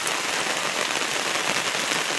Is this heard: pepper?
no